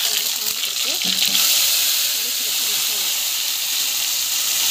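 Ginger and garlic fry in a pan with cumin and fenugreek, giving a steady close sizzle and hiss. A few soft stirring scrapes come through early on, and there is no talk.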